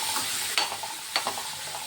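Maggi noodle masala with tomatoes, onions, chilli flakes and salt being stirred in a pan: a soft continuous sizzle with a few brief spoon scrapes, close and fairly quiet, with no voices.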